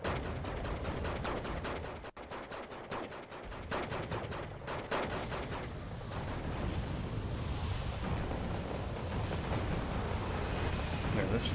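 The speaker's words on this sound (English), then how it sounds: "I'm gonna send in a mortar strike" Mortar strike explosions in the Wargame Red Dragon strategy game: a string of booming, crackling impacts and gunfire-like bursts, loud at first and then thinning into a rumbling wash, heard under a voice talking.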